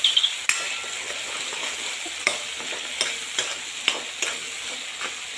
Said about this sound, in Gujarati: હું મિક્સ કરું છું તો કેટલા સરસ મજાના મસાલા શેકાઈ રહ્યા છે